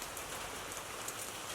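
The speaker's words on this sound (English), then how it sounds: "It's raining now. It's kind of hitting the metal roof of the woodshed" Rain patters steadily on the metal roof of a woodshed, a faint, even hiss of drops with no pauses and no voices.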